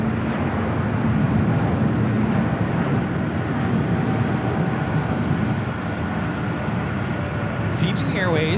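A Fiji Airways Airbus A350-900 takes off at a busy airport, its engines roaring steadily and loudly for the whole stretch, a broad sustained rush that holds level and then eases slightly near the end.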